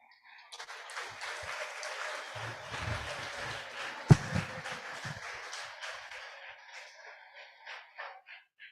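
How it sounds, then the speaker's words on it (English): Audience applause fills a lecture hall at an Ijebu Muslim College annual lecture, a sustained wash of clapping with a few sharp louder claps near the middle, fading gradually toward the end. "Please, that round of applause again for him."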